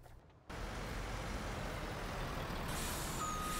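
A farm truck reversing in Farming Simulator 19: after a brief quiet moment, a steady engine drone and rumble start and continue, with a faint high beep-like tone near the end.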